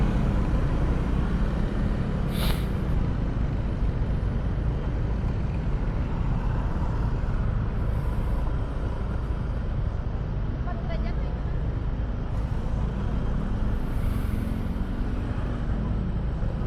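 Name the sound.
traffic on Jakarta streets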